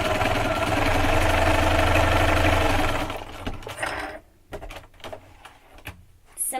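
Sewing machine stitching along one edge of two quilt blocks placed right sides together, a loud, fast continuous hum for about three seconds, then stopping and leaving faint handling clicks and rustles.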